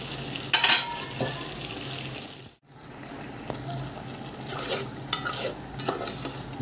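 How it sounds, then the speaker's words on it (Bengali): Onion sabzi stirred in a pan, a spoon scraping and clattering through sizzling onions in irregular strokes, close and fairly loud, with a brief silent gap midway. "ভালো করে মিক্স করে নেব।"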